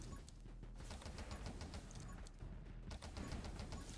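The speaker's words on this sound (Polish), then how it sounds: "Są eksplozje już." Explosions in the video game 20 Minutes Till Dawn, a dense run of rapid crackling blasts and pops layered over a low rumble, fairly quiet and continuous with no voice.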